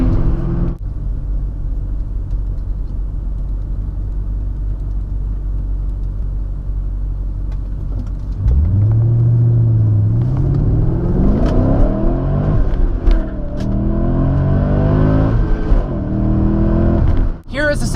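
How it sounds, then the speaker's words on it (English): A car engine with a manual transmission is pushed past its red line, a steady low rumble that rises into a loud, climbing rev around the midpoint and holds strained high revs to the end. "Here is a situation where over revving your engine and passing the red line can be really,"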